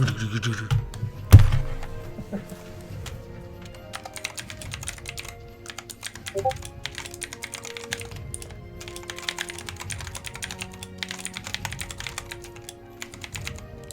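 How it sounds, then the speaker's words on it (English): A computer keyboard shifted across a tabletop gives one sharp, loud thunk, followed by scattered soft taps and clicks over a low, steady background hum. "Let me try to move my keyboard so it's not blowing up on the table going."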